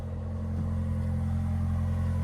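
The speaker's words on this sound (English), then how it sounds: "There's that exhaust right here." The exhaust of a 2025 Toyota 4Runner SR5 idles close by as a steady, low engine rumble with an even hum and no revving.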